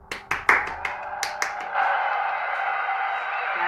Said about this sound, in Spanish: Un fuerte aplauso pido